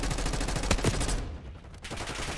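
Dense automatic gunfire from a firefight in the Black Ops 6 video game, loud and continuous bursts filling the whole stretch with barely a break.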